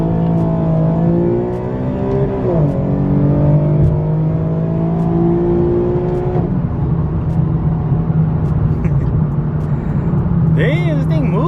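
A tuned Infiniti Q50 with a single bolt-on modification accelerates hard onto a freeway, engine note rising through the gears with audible shifts, loud and close from inside the car, with people talking near the end.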